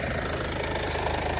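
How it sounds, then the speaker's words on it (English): A Mercedes diesel engine, just repaired after a low fuel pressure fault, idles steadily nearby with a continuous, even knocking clatter and no voices. "the engine runs smooth as anything"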